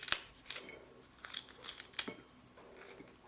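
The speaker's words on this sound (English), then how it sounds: "using a pair of scissors, you can just cut into smaller bits" Scissors snipping universal indicator paper into small pieces, a run of sharp close cuts with crinkling paper, fairly quiet and without speech.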